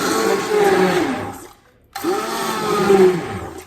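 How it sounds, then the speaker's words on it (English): A slightly broken hand blender purees homemade spaghetti sauce; its loud motor whirs and churns for about a second and a half, cuts off into near silence, then starts again and runs steadily to the end. "I have this hand blender, and this is what I use"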